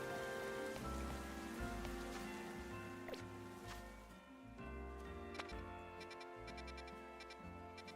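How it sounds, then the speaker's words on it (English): Steady patter of rain falling throughout in Pokémon Legends: Z-A, layered under looping melodic game music with soft plucked notes. "Oh no, it's raining."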